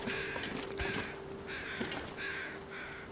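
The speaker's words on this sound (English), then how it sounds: "I hear crows." Crows cawing in the survival video game The Long Dark, several harsh repeated caws in short bursts over a steady low ambient hum, moderately distant, with no talking.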